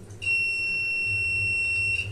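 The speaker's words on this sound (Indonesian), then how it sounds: "Buzzer bunyi ya teman-teman." A Heles YX 393 TR multimeter's continuity buzzer gives one steady, shrill electronic tone lasting about two seconds, loud and close with no speech over it.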